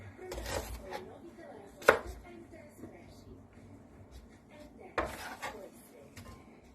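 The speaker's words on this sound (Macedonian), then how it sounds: "една главица црвена крумит, го сечеме на пола и го сецкаме на покрупни парчиња" A knife chops a halved red onion into large chunks on a board, a few sharp distinct knocks spaced apart, with speech running over it.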